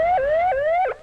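A warning siren sounds before equipment around bins and hoppers restarts, rising and dropping in three quick repeated wails, loud and clear over a quiet background before it cuts off.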